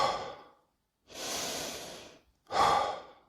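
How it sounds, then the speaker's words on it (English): A person takes slow, deep recovery breaths up close, with two long, loud breathy exhales or inhales separated by brief silence, sighing and airy with no speech. "these are the same recovery breaths that multi-million-dollar athletes take"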